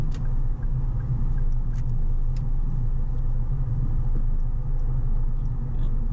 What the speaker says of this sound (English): No hesitation, perfectly smooth riding V6 motor with only